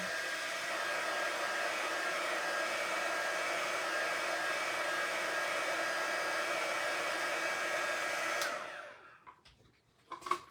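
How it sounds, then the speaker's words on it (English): A heat gun dries chalk paint on a storage or plant container, blowing with a steady loud whir for about eight seconds before cutting off, followed by a few faint handling knocks. "this heat gun too, this is a beautiful thing because I can just dry it quickly"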